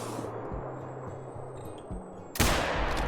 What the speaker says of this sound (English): that would have been an amazing shot, but I didn't quite lead it enough